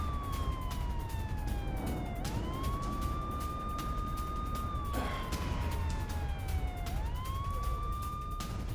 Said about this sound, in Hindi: पूरे शहर में सायरन बज रहे हैं।